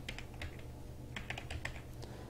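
Typing on a computer keyboard while building an invoice in Excel, heard as irregular quiet clicks and key taps close by, with no talking.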